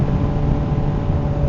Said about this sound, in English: You can hear the bike accelerate. You can hear the exhaust ramp up.